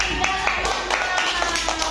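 Children in a first-grade classroom clap together for a group, quick rhythmic claps repeating in a lively, fairly loud patter with voices mixed in.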